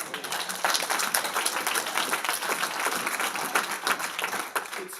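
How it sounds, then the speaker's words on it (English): Steady audience applause at a luncheon, a dense continuous wash of many hands clapping for several seconds at moderate loudness, fading slightly at the end. "it's funny how that always gets applause."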